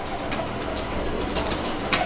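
A Madras pigeon gives soft, low cooing notes over a dense wash of background noise, close but fairly faint.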